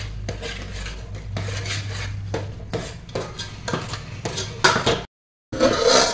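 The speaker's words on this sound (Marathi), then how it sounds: "आणि हे सगळं आता कणी तेलावर परतून घ्यायचं" Onion, coconut and masala sautéed in oil in a pan, with repeated metallic scraping and clattering of a spoon against the pan over a soft sizzle, then a brief silence before more scraping.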